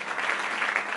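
A church congregation applauding, a dense, even wash of many hands clapping together at steady loudness through the whole brief moment, with no voices standing out.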